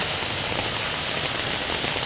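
Steady rain falls in a dense, continuous hiss, loud and even throughout with no voices.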